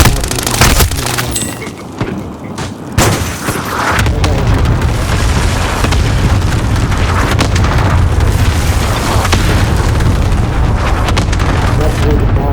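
Heavy booming airstrike explosions from a bombing run in Call of Duty roll out loud and dense, one big blast followed by a sustained rumbling wall of detonation noise.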